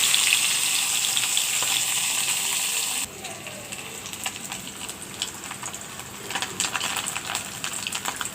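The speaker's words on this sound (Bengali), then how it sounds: "সবকটি মাছ এগুলো তেলে ভেজে আমি" Small fish frying in oil sizzle with a dense, bright crackle that drops to a quieter, steady bubbling partway through, with irregular spitting pops.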